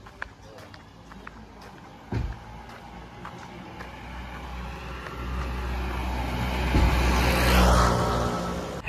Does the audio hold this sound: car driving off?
yes